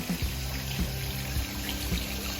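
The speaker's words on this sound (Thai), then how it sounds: "มีมุมน้ำตกด้วยนะ" Water tumbles and trickles steadily from an artificial waterfall at the Garden Seen garden cafe, a close continuous splashing with soft recurring gurgles and no talking.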